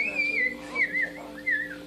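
A man whistles a wavering, sliding tune in three short phrases, fairly close and moderately loud, with a steady low hum underneath, during a family New Year's Eve gathering in Abitibi.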